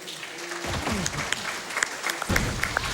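An audience at a Super Mario Odyssey speedrun event at Summer Games Done Quick claps along, rhythmic hand claps over a noisy crowd backdrop with game music or voices faintly underneath.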